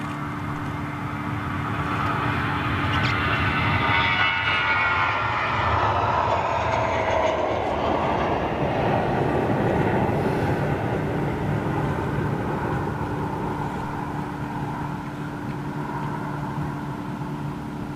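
Boeing 777 freighter jets at Amsterdam Schiphol airport, a steady, loud rumble of jet engines that swells and roars through the whole span, with a distant whine sweeping across, heard alone without talk.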